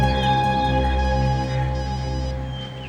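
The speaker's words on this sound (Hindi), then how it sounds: "सर, घंटी बज रही है।" A phone rings steadily and alone, a sustained electronic ringtone with bright stable tones over a low hum, lasting without pause.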